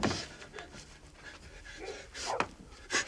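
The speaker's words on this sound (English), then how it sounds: "Those are the watchman's dogs." Watchman's dogs pant and snuffle nearby outdoors at night, a run of quick breathy huffs with a few sharper whimpering bursts toward the end.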